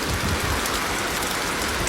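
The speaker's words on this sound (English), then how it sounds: "It's raining so hard." Heavy rain pouring steadily in Portland, Jamaica, during a depression bringing flooding, a dense, loud, continuous hiss of drops on surfaces with no voices.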